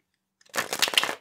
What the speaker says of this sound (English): then we'll shuffle your deck